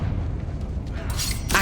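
A Confringo spell explosion in the video game Hogwarts Legacy: a booming, rumbling blast with a bright burst near the end, set against a dense background of game noise.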